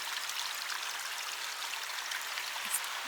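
A shallow, nearly dry river runs just upstream of a wooden bridge in the Welsh countryside, giving a steady, even wash of flowing water that holds constant throughout with no voices.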